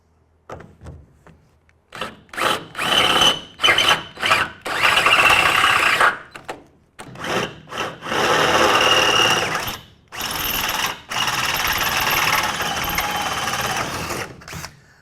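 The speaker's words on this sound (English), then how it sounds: "So I'm using a 3/8 inch drill bit to drill these out." A power drill with a 3/8 inch bit whines loudly in repeated bursts, grinding into metal on a Mustang/Falcon frame rail with brief pauses between runs.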